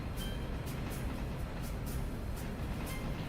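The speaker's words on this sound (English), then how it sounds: "This is the fastest any passenger train has ever run through Bryson." A passenger train in the Railroader video game runs at speed through a station without stopping, a steady, loud rumbling roar with rhythmic wheel clacks repeating at regular intervals, heard alone.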